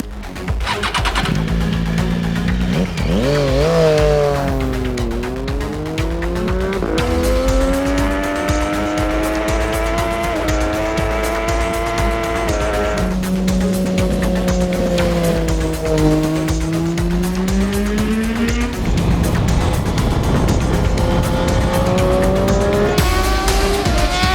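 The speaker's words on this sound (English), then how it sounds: "get some bike laps in with no one else on it" A British Supersport race bike laps an empty private track, its engine rising and falling through gear changes and corners, loud and sustained throughout with no talk.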